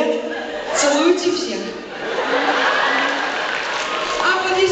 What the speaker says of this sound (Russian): Аплодисменты Джане.